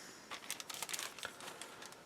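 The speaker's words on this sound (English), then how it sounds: "Clear parts are an important part of the kit, so I am going to open up this bag." A loose plastic bag holding clear parts for a 1:24 Sierra Cosworth 4x4 model kit is handled open, giving soft, quiet crinkling and rustling in a brief close-up burst.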